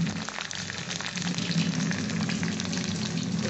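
Mashed bean (shim) mixture frying in hot oil, a dense continuous sizzle with fine crackling, close and steady throughout.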